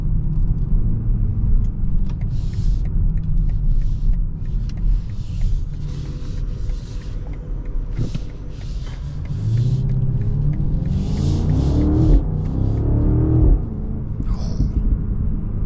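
Cabin view of a 2026 BMW X5 M60i under way: low engine rumble that swells as it accelerates, with a rising whine and scattered crackling exhaust pops toward the end, and a voice briefly speaking.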